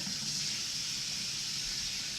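Warm water pours steadily into a bowl for homemade Amish white bread, a continuous close splashing gush with no talk over it.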